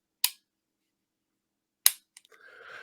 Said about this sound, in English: very, very positive connect, disconnect on that thumb safety